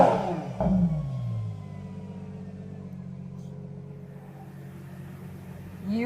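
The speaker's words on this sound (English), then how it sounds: "You have got that pure V12 Ferrari sound. It is like no other." A Ferrari four-door SUV's naturally aspirated V12 revs hard once near the start, then settles into a steady, loud, smooth idle with layered engine harmonics, and a brief blip returns right at the end.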